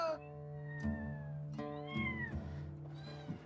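A young cat meows from inside a wall during a home renovation, several rising and falling cries in a row, fairly close and clear with no talk over them.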